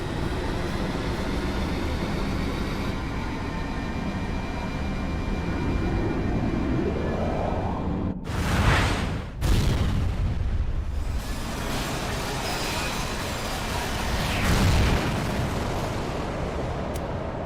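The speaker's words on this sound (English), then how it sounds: "The main battery stands ready. I beg you. Fire." Main battery cannon firing in Final Fantasy XII, a loud rushing rumble that builds to a sharp blast, then a second heavy boom and a long roaring wash, with a later rumbling swell, and no talking.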